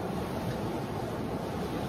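A fierce river rushes on Dartmoor beside a wild campsite, a dense, steady roar of churning water heard up close and loud, continuous and without any voices.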